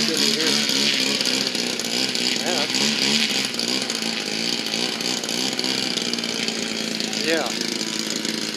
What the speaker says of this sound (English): There's a guy out there with a great big huge extra of some sort, great big monster motor he's trying to fire up right now.